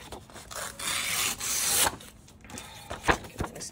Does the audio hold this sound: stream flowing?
no